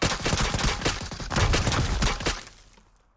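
Rapid burst of gunfire in the mobile battle-royale game PUBG Mobile, a dense string of loud sharp shots over about two seconds that trails off into a short fading tail, with no talking.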